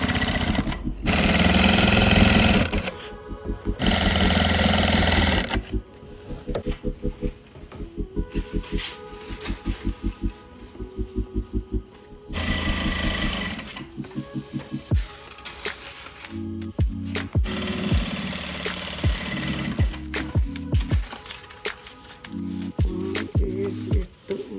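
Sewing machine stitching curtain canvas in repeated bursts of fast rattling stitches separated by pauses, clicks and fabric handling, loud and close, with occasional quiet speech between runs.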